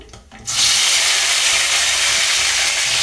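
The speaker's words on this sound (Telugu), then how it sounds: "ఫ్రై అయిపోయినాయి కదా, టమాటాలు అనేది వేస్తున్నాను" Chopped tomatoes hit hot oil in a pan for a tomato, mint and coriander chutney, bursting into a loud, steady, hissing sizzle that holds after a quiet start.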